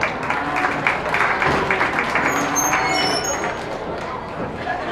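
A crowd applauds exhibitors at a county beef show in 2024, a loud, continuous patter of clapping with voices and an announcer's talk mixed in throughout.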